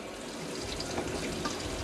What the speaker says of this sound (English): see if there's actually any warm water come out of it though